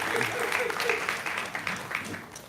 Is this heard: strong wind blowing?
no